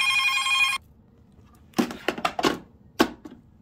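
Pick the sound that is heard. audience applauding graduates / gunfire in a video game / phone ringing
phone ringing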